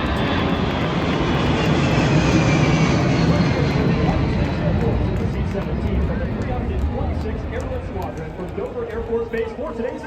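Aircraft flyover above a NASCAR race at Watkins Glen, a loud, steady engine roar filling the air for the whole stretch and easing slightly toward the end, with crowd noise underneath.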